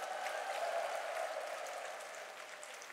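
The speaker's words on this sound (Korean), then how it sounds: "큰 박수 한번 부탁드리겠습니다" Seminar audience in Korea clapping together in a steady, dense wash of applause that holds evenly for a few seconds and then eases slightly, with no voices over it.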